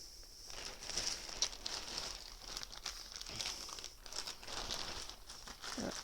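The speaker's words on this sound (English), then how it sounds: "you guys can kind of see me opening up the bag here" A plastic package bag holding platform shoes crinkles and rustles faintly and continuously as it is opened by hand up close, with irregular crackles and small tears throughout.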